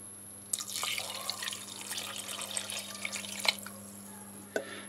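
Vegetable broth poured into a pot on a stovetop, a liquid splash starting sharply then trickling and sloshing for about three seconds, close and fairly quiet over a low electrical hum, ending with a small knock.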